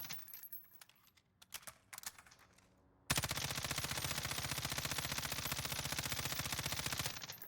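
Rapid automatic fire from an M13 rifle in Warzone, a loud, evenly spaced stream of shots that bursts in after a few quieter scattered sounds and runs continuously to the end.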